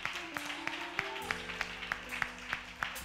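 A church congregation claps sparsely, with a handful of scattered hand claps at an irregular pace beneath a sustained organ or keyboard chord, fairly quiet and with no talking.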